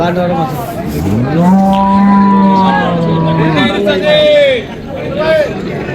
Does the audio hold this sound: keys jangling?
no